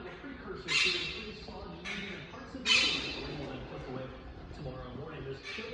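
Pet parrots squawking in a home kitchen, with several loud harsh bursts spaced a second or two apart over a steady murmur of background sound.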